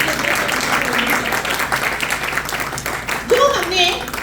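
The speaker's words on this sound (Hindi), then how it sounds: "मेरे ख्याल है आप थक जाते हैं तालियां बजाते हो।" A church congregation at an Urdu-Punjabi Sunday service claps in welcome, a steady crowd applause that runs throughout and thins a little toward the end, while a voice speaks and a brief tonal sound rises near the end.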